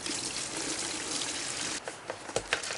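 Old fuel is poured out of a Yamaha ATV fuel tank in a steady gushing trickle that then breaks into a few separate splashes and drips near the end.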